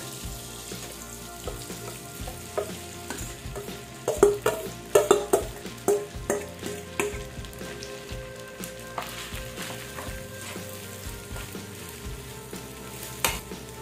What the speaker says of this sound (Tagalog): lalagay na po natin yung rice natin na mix ng egg yolk.